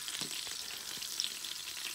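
Butter melting in a pan gives off a soft, steady sizzle and faint crackle, low in level and alone, with a few tiny pops scattered through.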